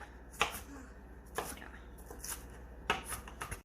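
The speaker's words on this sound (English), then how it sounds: "chop through to mince it more" A knife chopping onion to mince it on a board, three crisp cuts spaced about a second apart, close and fairly quiet, with soft kitchen background between them.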